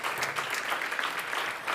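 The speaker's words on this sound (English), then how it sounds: "Come on stage, and let's give them a round of applause, please." Audience applause at the DigiEduHack 2023 main stage event in Madrid as people come up on stage, a full, continuous burst of many hands clapping that stays steady and fairly loud throughout.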